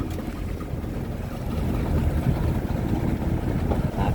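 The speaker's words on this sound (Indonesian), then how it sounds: "Ini cepet tuh ini speedboat." Speedboat crossing open sea from Penajam to Balikpapan in big afternoon waves, a steady close engine drone mixed with hull rush, water spray and wind buffeting the microphone throughout.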